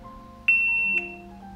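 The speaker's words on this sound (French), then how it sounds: "on a le bip d'allumage" A single high electronic power-on beep from a GoPro camera, short and clear, sounds close by over faint background hum.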